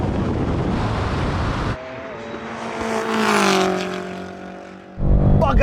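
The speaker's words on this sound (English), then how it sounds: "Let's do the drag race." Drag race between a 1600-horsepower Nissan GT-R and an 800-horsepower BMW M5: heavy wind rumble, then a high-revving engine whining upward in pitch at moderate distance before gusty wind noise returns.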